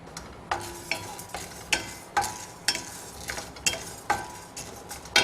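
Urad dal and chana dal dry-roasting in a pan, stirred with a utensil that scrapes and clinks against the metal in a steady rhythm of about two strokes per second, close and without talk.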